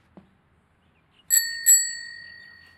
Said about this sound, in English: Happy dinging bell.